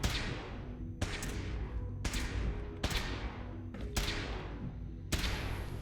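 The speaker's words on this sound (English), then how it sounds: "Sounds like gunfire." Sharp gunshots in the video game Fallout 4 fire in a slow irregular series, about six cracks each trailing off in a long echoing decay, loud and close with no voices.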